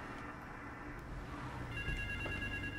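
A telephone rings in the GTA 3 video game, a faint, steady electronic trill at low volume with no talk over it.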